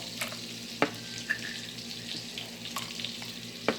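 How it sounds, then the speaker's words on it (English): Little smokies sausages fry in melted butter and oil, a soft steady sizzle with a few sharp clicks and pops from the pan and no talk. "Let the butter melt in there with the oil. Then I'm going to add the little smokies."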